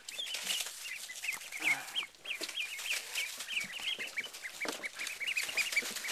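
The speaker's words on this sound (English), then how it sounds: "just start catching the baby ducks" Baby ducks being caught and moved into a swimming pool give off a dense, continuous chorus of high peeping and quacking, with flurries of wing flapping and scuffling close by.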